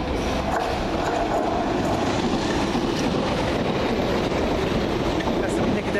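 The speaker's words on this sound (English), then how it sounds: "Oh, more Piccadilly coming around the corner." A London Underground Piccadilly line train rolls past near Stamford Brook, a steady broadband rumble with faint rail clatter holding for the whole stretch, loud and close with a little wind buffeting the microphone.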